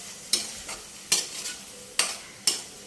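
Tamarind pulp frying in a hot pan for a chicken pickle, four sharp spoon scrapes and stirs at irregular intervals over a soft continuous sizzle.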